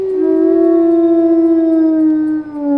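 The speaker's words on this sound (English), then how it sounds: "Okay, I'll howl with you." A wolf howl from the video game WolfQuest rises as one long, loud, sustained tone that slowly falls in pitch over nearly three seconds, close and alone with no talking.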